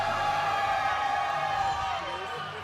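An indoor arena crowd at a FIRST robotics district event keeps up a loud, sustained roar of cheering with shrill whistle-like tones and horn sounds riding over it, slowly tapering toward the end.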